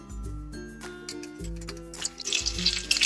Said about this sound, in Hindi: जैसे अंडे फ्राई हो गए हैं, अब इनको निकाल लेते हैं।